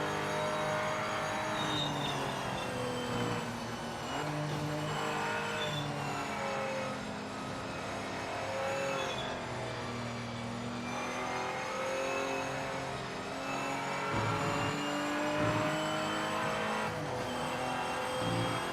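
A race car engine in the Project Motor Racing video game on PS5 drones and revs steadily throughout, with shifting tones and occasional tire squeal, continuous and fairly loud.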